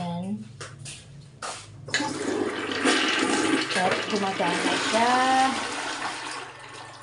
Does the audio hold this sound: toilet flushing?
yes